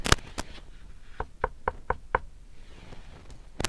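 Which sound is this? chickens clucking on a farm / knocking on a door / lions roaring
knocking on a door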